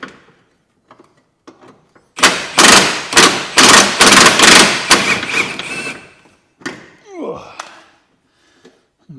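Air tool undoing a wishbone bolt on a Vauxhall Corsa C: a loud run of rapid rattling impact bursts lasting about four seconds, followed by a couple of shorter bursts and a clatter.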